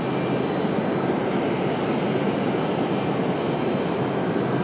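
An MD-11 jet airliner roars steadily at Raleigh-Durham airport, a loud, unbroken broadband engine rumble with no voices.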